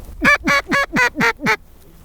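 Six loud, evenly spaced mallard quacks in a steady rhythm, close by in the open air at a warm-water creek in Nebraska during a duck hunt, followed by quiet.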